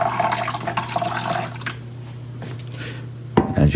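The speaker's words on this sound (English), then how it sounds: "So we're going to pour it in to this little hole here." Water pours from a pitcher into a Bomidi spin mop bucket, a close splashing stream with a steady tone that drops away into faint dripping before a brief louder splash returns.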